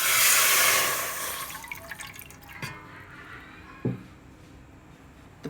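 Water poured into a pot on a medium flame as the first step of a sugar syrup for jalebi, a steady loud pouring rush for about a second that thins to scattered drips and small splashes.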